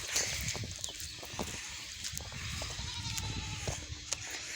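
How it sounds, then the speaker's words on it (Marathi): Goats bleating at a moderate distance outdoors, several short calls over a steady background hiss. "इथे बकऱ्या आहे।"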